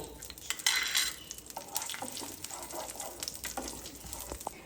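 Radhuni seeds and dried red chillies temper in hot mustard oil, a soft, continuous sizzle overlaid with a spoon scraping and clinking against the pan in an irregular stirring rhythm, close and fairly quiet.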